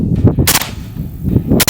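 A suppressed Zastava M91 rifle in 7.62x54R fitted with a Zvuk suppressor fires at a range, two loud sharp cracks about a second apart, each with a short rumbling tail.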